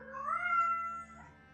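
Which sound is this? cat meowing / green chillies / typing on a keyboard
cat meowing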